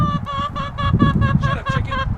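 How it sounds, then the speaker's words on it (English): A chicken clucks in a garden, giving a close, loud run of repeated rhythmic clucks over a low rumbling background. "Shut up, chicken. Shut up."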